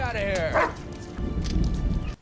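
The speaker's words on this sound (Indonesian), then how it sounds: "gonggongan seekor anjing" A dog in a film barks and yips excitedly, with whimpering yelps in short close bursts, mixed with other voices and scene noise.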